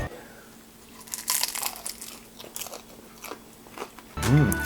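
Crisp crunchy bites into a golden fried spring roll, close up, with a short burst of voice at the end.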